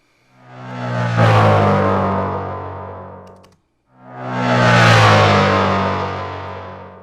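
Two long distorted synthetic roars made in Nuendo with a quadrafuzz distortion effect, each swelling and fading over a few seconds with a brief gap between them, loud and harsh.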